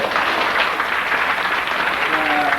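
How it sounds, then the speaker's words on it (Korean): Wedding guests clap together in a steady, dense round of applause that fills the hall, with a faint voice briefly audible underneath toward the end. "인사드리기 전에 격려 박수부터 먼저 한번 주시면 감사합니다."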